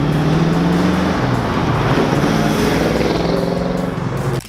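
A 1971 Chevrolet Camaro Z28 muscle car engine roars steadily and loud for several seconds with a dense, rough rumble, then cuts off abruptly at the end.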